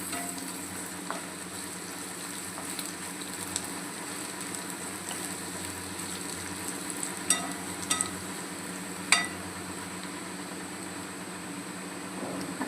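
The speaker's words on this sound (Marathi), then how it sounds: "जिरे पण चांगले आपण असे परतून घेऊया" Garlic and cumin seeds sauté in oil in a pan, a continuous moderate sizzle with a few clicks from stirring and no speech.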